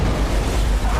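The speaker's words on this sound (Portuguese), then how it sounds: "A cabine explodiu." A DC-10 cabin blows out in flight in a dramatized scene: a loud, sustained deep boom and roaring rush of air filling the whole second at high level.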